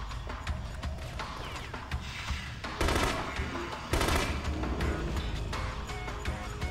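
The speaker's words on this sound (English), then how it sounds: "Even with these three-shot bursts" Three-shot burst gunfire in The Conduit on Nintendo Wii, rapid clustered shots with two louder bursts standing out over busy battle noise, close and punchy.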